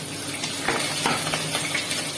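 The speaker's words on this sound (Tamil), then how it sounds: "வெங்காயம் நல்லா வதங்கணும்" Onions sizzling and frying in hot oil for a chicken gravy, with a soft steady crackle and occasional stirring clinks of a utensil against the pan.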